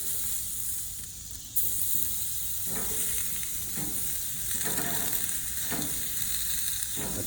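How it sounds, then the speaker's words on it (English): Filet and shrimp sear in a pan of melted butter, giving a continuous bright hiss and sizzle with occasional scraping stir sounds, close and steady. "Now we want to sear this side to keep it all in."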